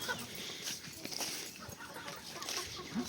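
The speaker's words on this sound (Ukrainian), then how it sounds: "Мої курчатка бігають." Chickens cluck softly nearby over a low outdoor background, with a few scattered bird calls and faint rustling.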